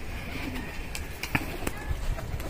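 Pigeons kept by a pigeon fancier make a few soft coos and brief calls at a rooftop loft, faint and close, over low background noise.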